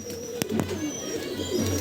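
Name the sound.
Chotial female pigeon cooing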